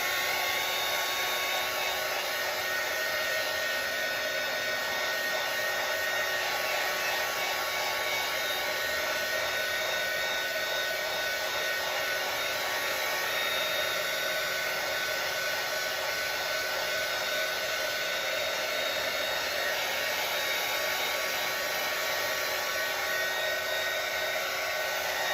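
Hair dryer drying acrylic paint on a 16x20 canvas, running close and loud as a steady, unbroken whir with a high whine for about 25 seconds, no talking.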